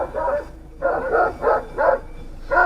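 A shepherd dog barks five times in a steady rhythm, fairly close and clear, with brief quiet gaps between each bark.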